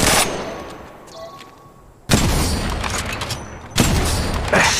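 Gunfire in the mobile battle royale Apex Legends Mobile: a quieter stretch gives way to loud, sustained bursts of automatic fire. Sharp extra shots punch in near the end.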